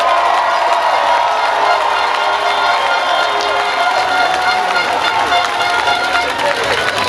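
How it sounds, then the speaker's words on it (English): Applause and cheering from an audience at a Cup Match presentation, a sustained roar of clapping, whoops and crowd shouting that stays loud and steady throughout. "Round of applause for my team."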